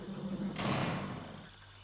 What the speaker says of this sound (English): what I want to do is open this door.